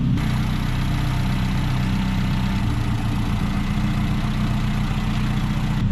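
A 1979 Chevy LUV engine idling after an idle mixture adjustment, a steady low rumble with an even, continuous throb, close and loud throughout with no talk.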